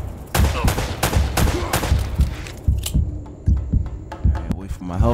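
Gunfire in the Uncharted game collection, a rapid string of heavy booming shots at an irregular rhythm, loud and close, with a voice speaking over the first shots and short electronic tones near the end.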